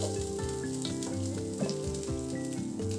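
Soft bele fish fries gently in hot oil, a steady crackling sizzle heard close under a prominent melodic music bed that runs throughout.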